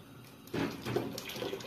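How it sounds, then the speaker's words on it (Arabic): Boiling water is poured from a vessel over washed lentils in a kitchen, a sudden close splashing gush starting after a brief quiet moment and continuing with bubbling, trickling texture. "نحط ميه مغليه، نغطي العدس بس بالميه المغليه دي"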